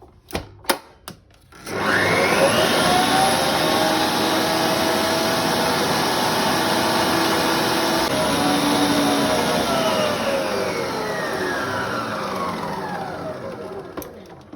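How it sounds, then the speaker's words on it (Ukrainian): After a few taps, an electric mixer starts and runs steadily and loudly, whipping cold cream with powdered sugar to stiff peaks for a Philadelphia cream cheese frosting. "Висипаємо вершки, додаємо цукрову пудру і збиваємо вершки до пишних піків."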